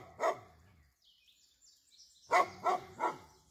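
A dog near a chicken house gives one bark, falls quiet, then barks three more times in quick succession, fairly close and moderately loud over faint birdsong.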